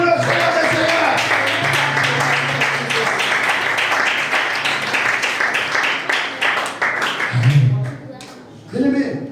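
Church congregation at a sermon clapping and cheering together, a sustained wash of applause with shouts and a voice over it, thinning out near the end as speech resumes.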